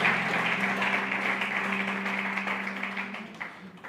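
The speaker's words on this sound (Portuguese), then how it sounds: "Dá uma salva de palmas ao nosso Deus." A church congregation claps in a steady, moderate round of applause while a sustained musical tone plays beneath, the clapping tapering off toward the end.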